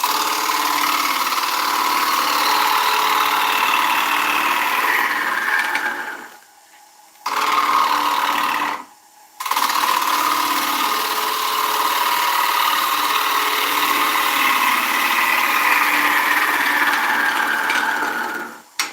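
A wood lathe turning willow hums and whines steadily at 700 rpm, a loud continuous motor tone interrupted by two brief drops in sound.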